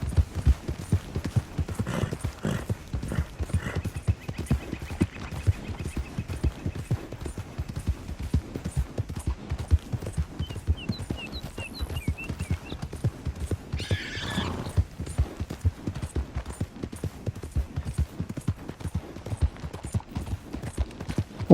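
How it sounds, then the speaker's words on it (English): A horse in Red Dead Redemption 2 clip-clops at a steady trot, close and rhythmic throughout, with a brief whinny around the middle and faint game ambience beneath. "Un caballo más para la banda"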